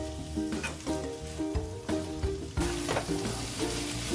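Boiled chickpeas are stir-fried with spices in a pan, a close, loud sizzle broken by repeated rhythmic scraping and clanking of a spatula against the metal, with background music underneath and no talking.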